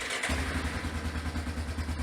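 A repaired Yamaha Big Bear ATV engine fires up after a brief quiet moment and settles into a steady, close, loud idle with a low throbbing rumble and light mechanical clatter.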